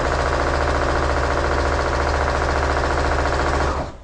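Sewing machine running steadily through a quarter-inch seam on a quilt block, a loud, continuous rapid mechanical stitching hum that holds for nearly four seconds and then stops abruptly.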